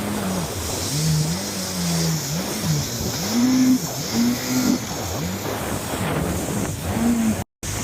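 A quad bike engine in Marrakech revs and accelerates in repeated rising and falling surges, close and loud under heavy wind buffeting, with a brief cut near the end.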